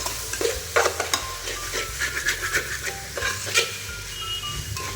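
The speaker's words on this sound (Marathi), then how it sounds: "थोडंसं दही टाकलं परत त्याला फ्राय करून घ्यायचं आपण" Pulav masala frying with curd just added, a steady sizzle and hiss close by, broken by scraping and stirring knocks of a spoon in the pan.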